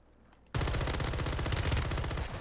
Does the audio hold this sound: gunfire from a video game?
yes